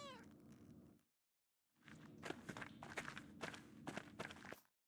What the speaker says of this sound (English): Surely that is a cat who is busy fanging mouse.